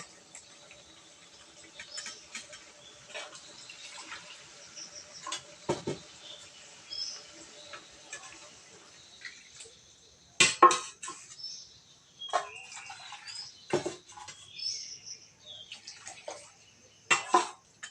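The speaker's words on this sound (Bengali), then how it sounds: "এবার আমি সামান্য জল দিয়ে দিব" Water goes into an egg and potato curry with yardlong beans in a hot pan, with quiet bubbling followed by bursts of sputtering, splashing and clinking, close and uneven.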